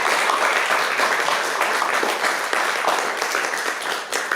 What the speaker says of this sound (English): why don't we give Vickie a round of applause for doing what she's done?